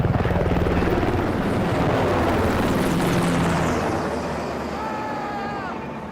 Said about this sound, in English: We brought in a couple HH-60 Pave Hawk helicopters.